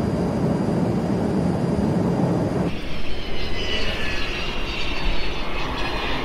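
Loud, steady roar of an airliner landing at the airport in Makhachkala, the engine drone shifting abruptly partway through into a rougher rumble.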